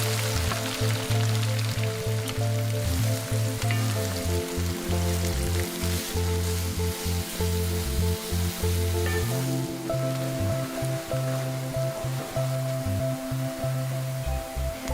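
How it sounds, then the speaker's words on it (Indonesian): Onions and spices frying in ghee for beef biryani, a steady crackling sizzle with a continuous bubbling hiss, under a loud droning hum with periodic dips. "Dalam minyak sapi yang sama, masukkan semua rempah yang telah disediakan tadi, diikuti dengan baki 700 gram bawang, dan goreng sehingga bawang menjadi perang keemasan"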